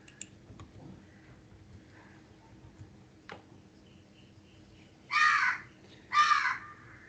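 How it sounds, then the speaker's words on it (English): Two loud crow caws in a row near the end, clear and close, after a mostly quiet stretch with faint clicks. "The crow is also saying your time is up"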